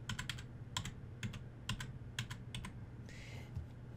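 Arrow keys on a computer keyboard are tapped in quick, light clusters of clicks, steady and close, with a brief soft rustle near the end.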